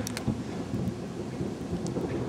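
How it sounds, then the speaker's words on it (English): Rumbling thunder from an approaching storm rolls continuously and loudly through the whole stretch, with rain hissing faintly underneath and no voices. "A storm's a brewing."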